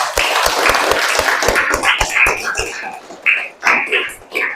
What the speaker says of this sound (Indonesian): kita beri aplaus untuk kita semua